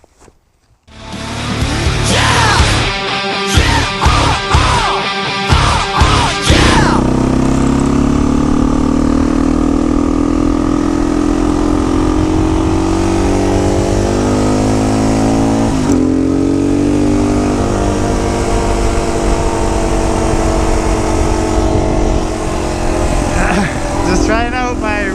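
A Husqvarna TE 610 motorcycle engine runs loud and close throughout, with a choppy burst of revving early on, then a steady sustained drone with slight pitch swells.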